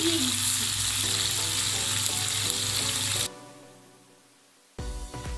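Chopped onion and chili frying in a pan while making stovetop pan pizza: a loud, steady sizzle with some stirring, then a sudden drop to near quiet before the sizzling bursts back up.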